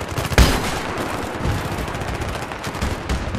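Soldiers firing bullets at a tank in the Battlefield 3 campaign, a sharp loud shot at the start followed by continuous crackling rifle and machine-gun fire, with no voices.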